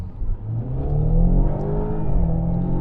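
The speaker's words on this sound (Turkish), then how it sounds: "Spor modda dip gaz yapıyorum şu an." A 2015 BMW 520i F10 with a 1.6 turbo petrol engine accelerates at full throttle in sport mode, its engine note rising steadily and loud from inside the car, with no talk over it.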